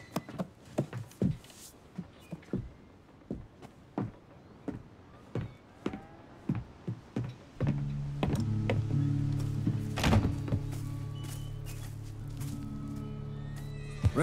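Pony in Red Dead Redemption 2 with a run of hoof thunks and clip-clops, then a loud drawn-out neigh over a sustained tonal game sound, alone and fairly close.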